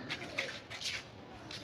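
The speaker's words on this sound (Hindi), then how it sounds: "यहाँ कबूतर भी है, कबूतर भी है।" Pigeons cooing in a village, a few soft, faint repeated coos in a quiet outdoor setting with no talking.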